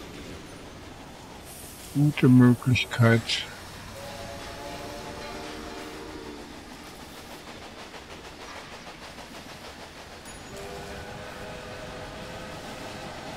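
A train in the Railway Empire video game, with a short burst of loud horn or whistle blasts followed by a steady rolling rumble and faint tonal hum, someone speaking briefly.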